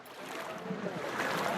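Fire brigade crew hauling a rescue boat through floodwater in Navsari, with a steady wash of sloshing, splashing water close by and no clear voices.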